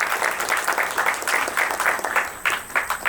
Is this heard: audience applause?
yes